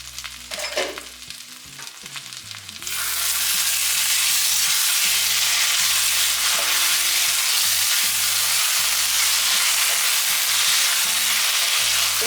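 Mutton pieces fry and get stirred in a pan while cooking down dry, starting with a few scrapes and clinks before a loud, steady sizzle takes over and continues unbroken, close and with no talk.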